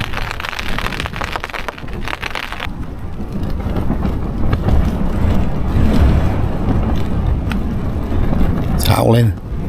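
Wind gusting around a camping tent, a continuous rushing roar with fabric buffeting and rain-like hiss, steady and loud throughout, with a short whistling sweep near the end.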